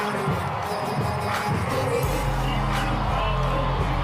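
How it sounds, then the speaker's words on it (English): Baseball stadium crowd of about 15,000 cheering a Texas player, a broad sustained roar with scattered whoops and a deep rumbling low end that strengthens halfway through and stays loud. "And the crowd loves it."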